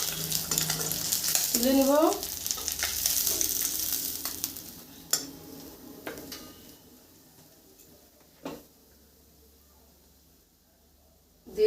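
Fish sizzles while frying in oil in a pan for a mustard fish dish, a loud hiss for the first few seconds that settles into quieter crackling. A few utensil knocks and brief speech follow.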